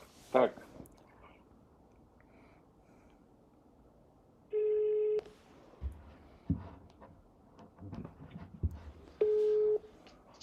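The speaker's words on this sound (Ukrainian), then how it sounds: "Зараз будуть всі Владіслави думати, кому ж зателефонують" A telephone call is placed during a live charity stream raffling an Audi e-tron: two steady electronic ringback tones sound over a quiet room, with clicks, handling noise and faint murmuring between them.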